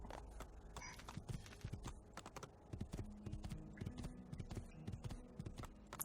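Horse hooves clip-clopping steadily in Assassin's Creed 2 as the horse is ridden across open countryside near a villa, with a continuous rhythmic beat and faint background game ambience.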